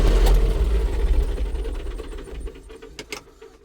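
Inside the air-conditioned cabin of a John Deere 5405 tractor, the engine runs with a muffled low rumble that is steady and fairly loud at first, then slowly softens, with a few light knocks and rattles near the end.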